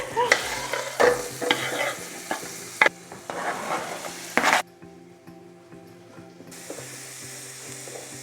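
Sorrel and eggs for green borscht sizzle and sauté in sunflower oil in a pan with scraping stirs and clinks, then settle to a quieter, steady sizzle.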